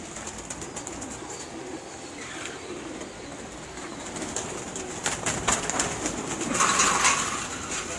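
Soft pigeon cooing and bird calls from pigeons on a rooftop in Faisalabad, over a steady outdoor background hum, with a few brief sharp clicks and a busier burst of chirping near the end.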